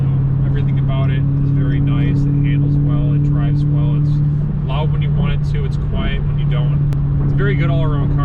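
Dodge Charger SRT Scat Pack engine drones steadily from inside the car while driving, a loud, even low hum that persists throughout as a person talks over it.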